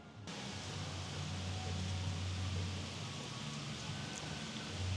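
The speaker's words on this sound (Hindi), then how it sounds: "तेज़ रफ्तार से बारिश हो रही है।" Heavy rain pours steadily onto a pond below a castle-style hilltop area at Ba Na Hills, Vietnam, a dense, continuous hiss that stays loud and even throughout with no voices.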